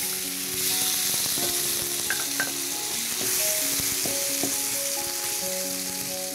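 A kidney sizzles steadily in hot oil in a pan, a soft continuous crackle with a few faint scrapes of a utensil.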